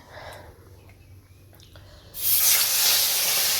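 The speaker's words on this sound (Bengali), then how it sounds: "মাছ ভাজতে দিচ্ছি" Fish dropped into hot oil in a kadai: a few quiet clinks and a low hum, then a sudden loud, close hiss of frying that bursts up and keeps roaring steadily, with no voices.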